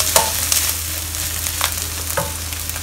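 Pork seasoned with five-spice powder and white pepper is stir-fried in a pan, with a few scraping stirs over a steady low sizzle and hum, close and moderately loud.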